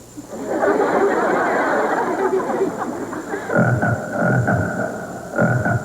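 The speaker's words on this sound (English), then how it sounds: "a 26-foot frog." Deep, throaty frog croaks sound loud and close, first as a dense chorus, then as several rhythmic, repeated croaks.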